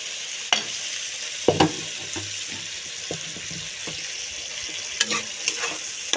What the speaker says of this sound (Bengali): এখন কেটে রাখা টমেটো দিয়ে দেব।